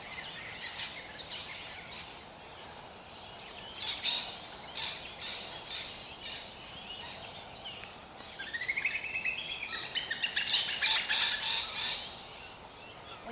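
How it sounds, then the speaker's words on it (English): Outdoor birdsong: several birds chirp and trill together in a busy, steady chorus over a constant low hiss of background noise, growing denser and louder toward the end, with no talking. "We have a beautiful orchestra of birds."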